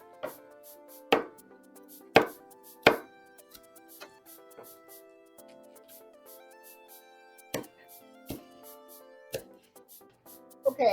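Vegetables quartered with a knife on a cutting board, several sharp separate chops spaced a second or so apart, heard close over soft background music.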